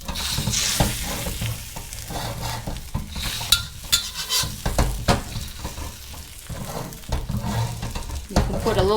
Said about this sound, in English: A little grapeseed oil just to fry our egg first.